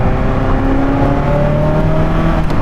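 A Ferrari F40's turbocharged engine comes on boost, a loud, steady drone with a rising whine held throughout, heard from inside the car.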